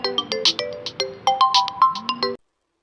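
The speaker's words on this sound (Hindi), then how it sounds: "तुम जैसे ही अपना फ़ोन रखते हैं वैसे ही ते का फ़ोन रिंग करता है।" A mobile phone plays a melodic ringtone of quick, bright repeated notes for a couple of seconds before cutting off into silence.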